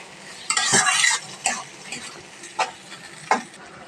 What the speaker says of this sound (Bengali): গিলাগুলো মশলার সাথে ভালোভাবে আবার একটু ভাজবো